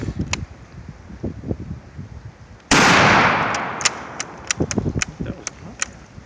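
Blank round fired from an M1903 Springfield rifle outdoors in cold weather: one loud, sharp report with a long decaying tail, followed by a string of small metallic clicks from the rifle's action.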